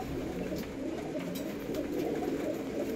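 Female pigeons coo softly during heavy monsoon rain, their low murmurs blending into a steady wash of rainfall that stays constant throughout.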